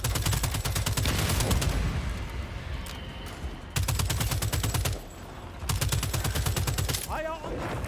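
Rapid automatic gunfire from the co-op shooter game Second Extinction, loud sustained bursts of rattling fire with brief pauses between volleys, over a continuous dense battle din.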